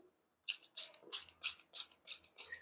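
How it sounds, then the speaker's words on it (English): A spray bottle mists an orchid during repotting, giving eight quick, even hissing bursts in a steady rhythm, close by and fairly loud, with brief silences between each pump. "So let's go ahead and give it a spray down"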